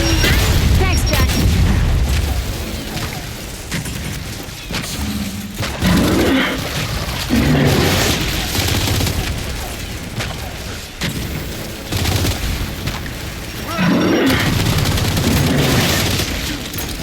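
Video game combat in which a grenade blast and gunfire roll together into repeated loud booms and rumbling bursts, rising and fading in waves, with occasional voices underneath.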